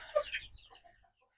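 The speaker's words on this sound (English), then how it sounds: "Right there is Goldie hen." Short soft clucking from hens on a roost in a coop close by, a couple of low murmuring notes that fade into quiet after about a second.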